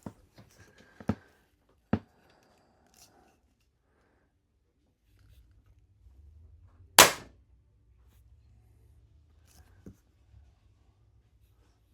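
A crossbow looses a bolt into a target with one sharp, loud crack, surrounded by a few faint clicks and handling noises in an otherwise quiet space.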